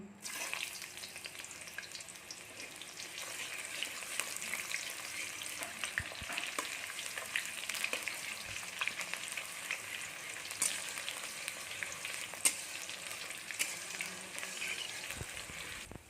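Chopped onions and cardamom sizzle in hot oil, a constant crackling fry with occasional scrapes and clicks from stirring, close and steady throughout.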